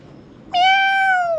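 After a moment of near silence, a cat lets out one loud, clear meow that holds steady and trails off slightly at the end.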